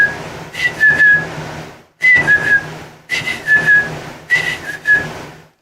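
A person whistling to imitate bird chirps, four short bursts of high twittering whistles with brief breaths between, loud and close, no speech.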